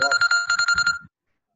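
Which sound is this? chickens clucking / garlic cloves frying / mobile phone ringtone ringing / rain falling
mobile phone ringtone ringing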